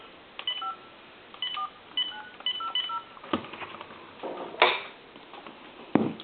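Touch-tone dialing on a phone connected to a regular wall line, calling a time and temperature number: a run of short, evenly spaced beeps in quick clusters, followed by a few sharper clicks, close and clear with no talk.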